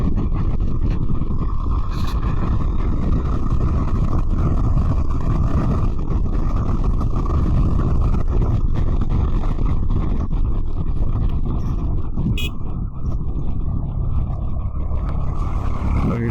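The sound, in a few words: tractor passing on the road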